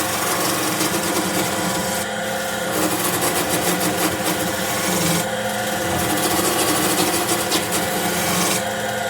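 A wood lathe turning a wooden mallet while a sharp tool on the tool rest cuts curly shavings, a loud, continuous raspy scraping over the machine's steady hum, with brief pulsing variations.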